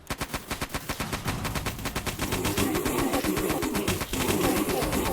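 Machine gun fire in the horror shooter Eternal Evil: a rapid, evenly spaced burst of loud shots that blurs into continuous heavy fire with rumbling impacts, close and dominant.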